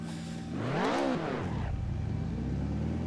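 A BMW M3 DTM race car engine revs up in a rising and falling sweep, then settles into a steady droning hum. It sounds loud and close throughout, with no voices.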